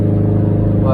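Close, steady car engine drone with strong even harmonics during light cruising on freshly rebuilt, breaking-in piston rings with a new boost controller fitted, holding a constant pitch through the brief moment.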